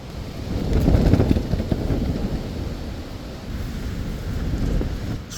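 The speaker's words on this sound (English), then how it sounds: "Storm Lilian is doing its worst." Storm Lilian batters a campsite in August with gusting wind roaring against the microphone and tent, rising and falling in surges, with deep rumbling like distant thunder underneath.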